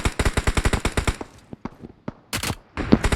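Rapid automatic gunfire rattles in a shooter video game, a fast burst of close, loud shots followed by scattered single cracks and another short volley.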